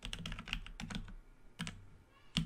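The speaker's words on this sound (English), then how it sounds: "We'll type customer dot demographics" Keys clatter on a computer keyboard in short bursts of rapid taps, with brief pauses between groups and a final sharp keystroke, close and clear with no talking.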